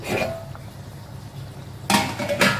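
A metal lid lifted off a simmering pot of egg curry (muttai kulambu) in a home kitchen, giving a couple of distinct clanks and scrapes with quiet bubbling between them.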